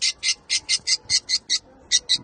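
Rainbow budgerigar giving a rapid run of about ten sharp, bright squawks in a steady rhythm, close and fairly loud, with a short pause before the last two.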